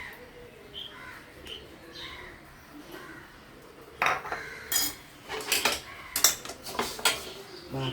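Shark fish curry poured and served into a dish at home, faint scraping and clinking of a spoon against metal vessels, with sharper clatter in the latter half and birds chirping softly in the background.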